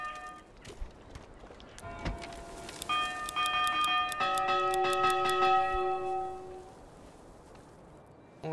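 Church bells chime inside a city-building video game, clear tones entering around the second and then layering into a sustained, overlapping peal of several pitches that rings for a few seconds before fading.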